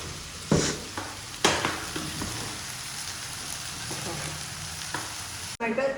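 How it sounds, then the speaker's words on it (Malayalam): Curry masala sizzles steadily in a pan while a spoon stirs it, with a few sharper scraping knocks standing out over the continuous frying hiss, close by, with no one talking. "ഇനി ഒന്ന് ഇളക്കി കൂട്ടി വയ്ക്കാം"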